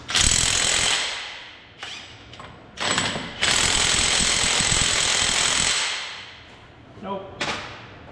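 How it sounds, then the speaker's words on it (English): A cordless impact driver works on a car wheel nut, giving a loud, close burst of rapid rattling hammering, then short stabs and a longer sustained run of impacts, with a brief voice near the end. "See if my CC can undo this side."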